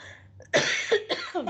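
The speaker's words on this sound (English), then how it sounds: "Excuse me, I'm going to cough again." A single close cough bursts out, followed by a couple of quick, rough coughs trailing after it.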